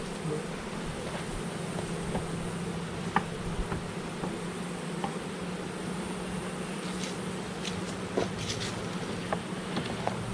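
Honeybees at a hive in fall, settling in for winter, give a steady soft buzzing drone with occasional louder passes of individual bees close by.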